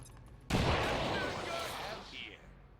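A sniper-shot grenade bursts in XCOM 2 Long War of the Chosen, a sudden loud blast at about half a second that rumbles and fizzles out over the next two seconds, with faint background noise before it.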